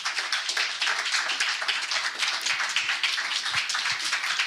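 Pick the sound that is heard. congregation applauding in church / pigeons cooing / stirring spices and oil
congregation applauding in church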